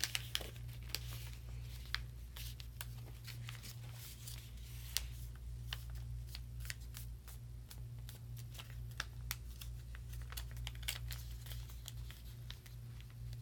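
Origami paper being folded and creased by hand, with close, quiet crinkles, taps and sharp rustling snaps scattered irregularly over a low steady hum, no talking.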